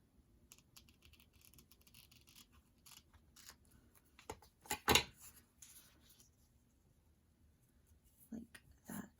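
Scissors snip through material in a series of sparse, quiet clicks and cuts, with a couple of louder snaps in the middle and near the end, and a voice faintly present at times.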